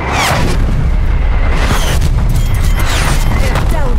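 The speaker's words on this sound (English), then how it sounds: "TACOM, get artillery on my cohorts." Artillery strike explosions in Call of Duty Cold War Zombies on the Firebase Z map, a dense continuous rumble of booms and bursts with sharper blasts near the start and midway, loud and sustained throughout.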